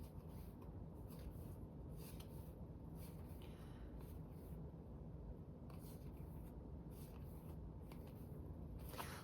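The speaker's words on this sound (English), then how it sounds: "Look at all the shuffling." Tarot cards shuffle continuously in a steady, soft riffling and rubbing rhythm, close and quiet, with no voices.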